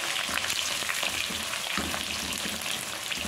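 Chopped onion sizzles in melted lamb tail fat for chicken breast fajitas, a dense, steady frying hiss that holds at an even level for the whole stretch, close by and with no talking.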